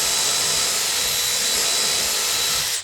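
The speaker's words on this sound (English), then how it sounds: "Now just grab your drill bit and you're just gonna drill a pilot hole" A power drill bores a pilot hole into a kitchen cabinet face frame during installation, a loud, steady high-pitched whir lasting nearly three seconds before stopping abruptly, with no talk.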